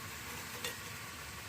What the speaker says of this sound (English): And then I'm just going to give it a quick stir here.